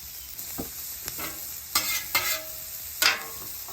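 Onions sizzle on an outdoor griddle over low burners, a faint steady hiss punctuated by a few sharp spatula scrapes and taps, the loudest near the end.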